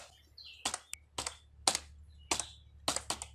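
Keys clatter on a computer keyboard while code is typed into Notepad, short irregular bursts of close, crisp taps separated by brief pauses, with no voice over them.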